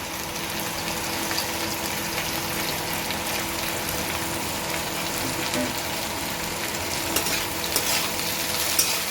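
Carrots, beans and capsicum stir-fried in a pan for chowmein make a continuous loud, close sizzle with faint stirring movements and no pauses, with no voices over it.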